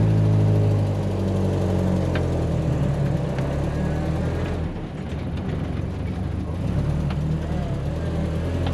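1965 Land Rover Series IIA engine heard from inside while driving, a steady low rumbling drone that rises in pitch as it accelerates and then eases back, continuous and close throughout.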